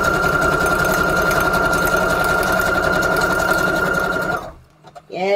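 A sewing machine stitches papers for crafted Valentine pages in a steady, fast rhythmic whir lasting several seconds, then stops, followed by a faint click and brief handling noise.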